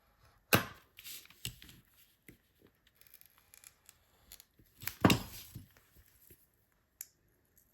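Material for a woven heart plate being cut, giving a few sharp snips and cuts at irregular intervals with quiet handling noises between, close and without speech.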